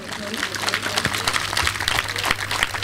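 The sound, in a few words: church congregation applauding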